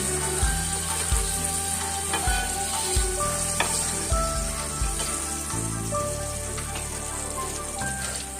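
Fish pieces fry in oil for a Bengali potol dorma, giving a constant close sizzle and spatter with occasional utensil clinks, over a low sustained tonal hum.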